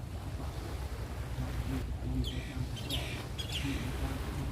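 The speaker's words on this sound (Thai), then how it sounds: "เสียงนกเสียงนก นกเอียงพี่น้อง" Birds chirp in a few short, bright bursts over a steady roar of sea waves and wind along a coast with a large ship offshore.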